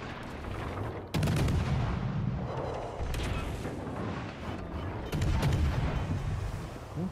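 Heavy naval gunfire in World of Warships: Legends, with two loud booming salvos a few seconds apart and rumbling battle noise in between, no talk.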